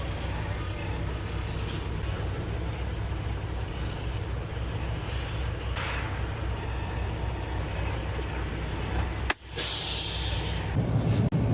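High-pressure spray washing a car hauler truck inside a wash bay, a steady broadband hiss and rumble throughout with a brief interruption near the end, moderately distant and without talk.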